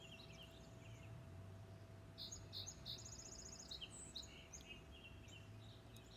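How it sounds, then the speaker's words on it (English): Soft bird chirps and short calls come from a distance over a low, steady background hum, several brief phrases spread across a quiet outdoor ambience. "perhaps the song of the bird"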